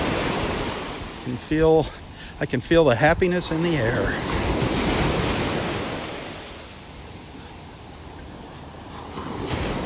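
Small ocean waves wash gently onto a beach in North Naples, Florida, making a soft, continuous surf with some wind noise. A person speaks briefly over the water near the start.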